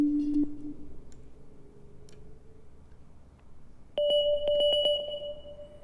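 Wavetable synthesizer tones in Ableton Live: a low sustained note, faint scattered ticks, then a brighter held tone with a rapid series of clicking pulses layered over it.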